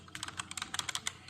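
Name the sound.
typing an ID into the computer keyboard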